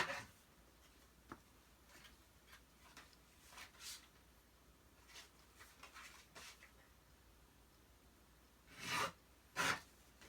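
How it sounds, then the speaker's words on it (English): Paper being trimmed on a paper trimmer at a craft desk while making a birthday card, quiet scattered rasping slides of the blade with a couple of louder cutting swipes near the end, close up and otherwise hushed. "Trim my paper."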